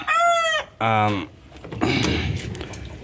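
Two loud, drawn-out crowing calls, then softer clucking and scratchy farmyard noise from nearby birds.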